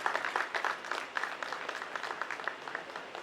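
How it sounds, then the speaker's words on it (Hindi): Guests applaud as a man is welcomed to the dais at a music video launch event, a brisk, fairly faint burst of many hands clapping, uneven and lively, lasting a few seconds with no voices. "जोरदार तालियों से इस्तकबाल करें।"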